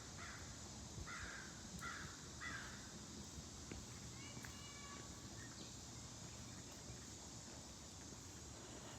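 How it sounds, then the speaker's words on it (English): Distant crows cawing in a short run of calls, then sparse faint calls over constant background hiss, quiet and far off. "Did y'all hear the crows?"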